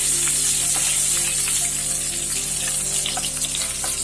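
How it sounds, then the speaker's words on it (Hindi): Chopped ginger and garlic fry in a spoonful of oil in a pan for tomato rice, giving a steady, close sizzle with small crackles and spits throughout, and no voices. "अभी इसमें मैं ये अदरक लहसुन चॉप किए हुए वो डाल देती हूँ। इसको थोड़ा सा जैसे भूनना है"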